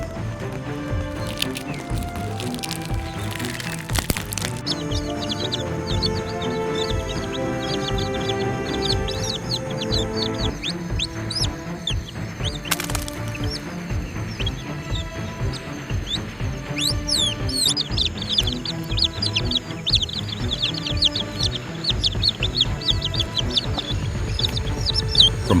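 Siamese fireback pheasants calling in deep jungle at dawn: repeated chirps and clucks over a busy, layered background of other birds and forest sound, continuing throughout.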